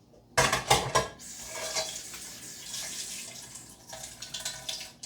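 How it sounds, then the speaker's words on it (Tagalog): Water poured into a bowl of rice with noodles, with close clinks of dishes and cutlery and a running, splashing trickle that comes in bursts and then continues more softly. "Okay, lagyan na natin ng tubig para lumambot."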